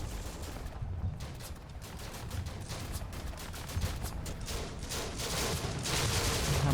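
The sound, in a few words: rifle volleys fired in video game Combat Mission: Afrika Korps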